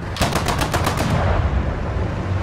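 Machine gun fire from an aircraft in the War Thunder combat game, a fast, loud burst of rapid shots for about a second, then a steady engine and wind roar carrying on alone.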